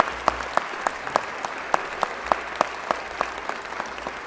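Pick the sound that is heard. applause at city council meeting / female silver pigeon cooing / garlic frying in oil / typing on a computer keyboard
applause at city council meeting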